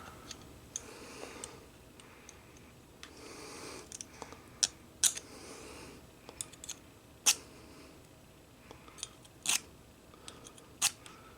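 A metal file scraping across the hardened cutting jaws of a Japanese tool, heard as soft, faint rasping strokes with sharp scattered ticks and clicks at irregular intervals, close up and quiet.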